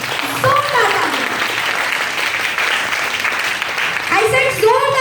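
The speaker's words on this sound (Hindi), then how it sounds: "जोरदार तालियां, जोरदार तालियां" An audience applauds loudly and continuously at a gathering, a dense steady clatter of many hands, while voices call out and cheer over it at the start and end.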